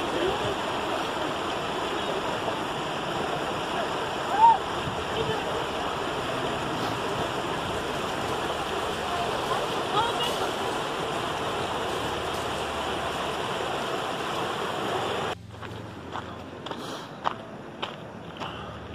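The Juncal river in an Andean park rushes in a continuous broadband flow during a crossing, loud and close, with a few scuffs and knocks, then the water drops away abruptly near the end.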